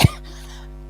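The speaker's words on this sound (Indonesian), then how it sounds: "Maaf ya teman-teman, saya batuk." A single sharp cough in a quiet indoor room during an Indonesian-language discussion session, then a steady low hum, with no talking.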